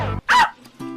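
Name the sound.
dog barking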